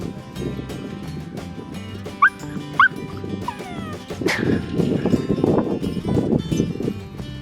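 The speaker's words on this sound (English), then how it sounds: "Do you want to play with that dog?" A dog in a busy London park gives a couple of brief, distant yips, then the scene fills with loud outdoor bustle and rumbling ambience.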